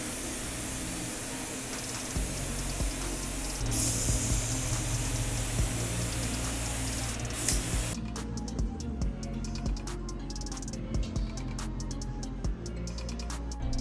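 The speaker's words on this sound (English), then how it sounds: "I have white cocoa butter, and if I go too slow, then it starts to spit and doesn't spray." Spray gun misting white cocoa butter onto a chocolate sculpture, a steady loud hiss running for several seconds, then breaking into sputtering, spitting bursts.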